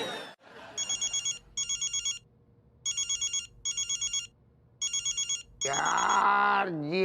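An electronic phone ringtone trills in repeated short bursts, fairly loud and steady, followed by a burst of other noise at the end.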